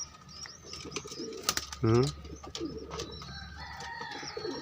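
Pigeons cooing in a loft, one clear close coo rising out of scattered rustling, faint wing flutters and soft chirps, with other quieter coos in the background.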